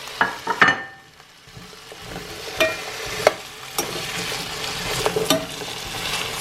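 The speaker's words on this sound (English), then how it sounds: "Stir everything. That way the aceite is on all the papas and nothing gets stuck like that." Seasoned potatoes frying in oil are stirred in a pan, giving a loud crackling sizzle with repeated scraping knocks from the spoon. After a brief quieter moment the sizzle builds again.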